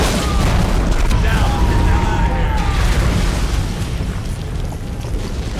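Game explosions in the 2008 video game Turok, a loud continuous barrage of booms and rumbling blasts that fills the whole stretch with dense low-end roar, easing slightly toward the end.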